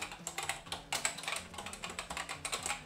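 Rapid typing on a BBC Micro computer keyboard, a quick irregular stream of sharp, close key clacks with no voices.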